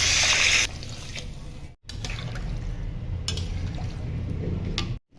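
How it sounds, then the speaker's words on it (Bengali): Water pours into a pot to form the broth for a fish curry with fried potatoes, a steady continuous splashing fill broken by two brief pauses, heard close and alone. "এখন ঝোলের জন্য জল দিয়ে দেব।"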